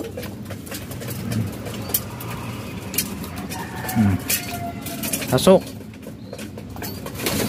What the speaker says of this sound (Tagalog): Ayan, bumaba na mga kalapatids.